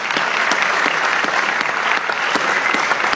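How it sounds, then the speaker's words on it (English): Town hall audience in Astoria, Oregon applauds the mayor, a steady, close burst of many hands clapping with no voices over it. "How about a round of applause for the mayor?"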